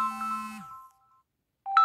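A mobile phone ringtone for an incoming call, a bright electronic melodic tone that fades out, then starts ringing again after a short silence, alone and fairly close.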